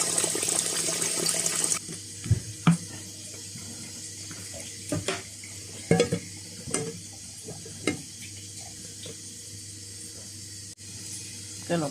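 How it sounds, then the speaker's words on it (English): Rice being washed in water in a kitchen: soft sloshing and swishing with scattered splashes and clinks at an irregular pace, fairly quiet, after a brief burst of running water at the start. "now we are going to wash our rice"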